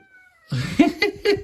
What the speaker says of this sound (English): Dino Cat tried to get in the case.